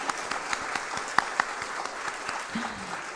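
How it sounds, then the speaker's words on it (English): A live event audience gives sustained, even applause, a dense wash of many hands clapping at moderate distance for the whole stretch, with a brief voice faintly underneath. "Can we have, once again, a huge round of applause for the incredible participants"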